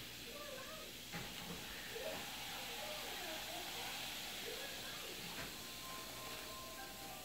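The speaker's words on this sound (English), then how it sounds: "Now I'm adding my boiling water." Boiling water poured onto vinegar, salt and baking soda gives a steady, faint fizzing hiss that holds evenly throughout with little change.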